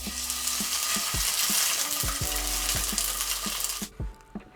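Pork belly sizzling in hot oil in a cast iron pan, a bright, dense crackling hiss up close with a few metallic clinks, ending abruptly after a few seconds.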